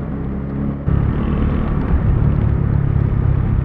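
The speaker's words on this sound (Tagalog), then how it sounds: "Galit ang makina." A car engine labours under strain while driving through rain, giving a loud, steady low rumble that swells slightly partway through, with no talk.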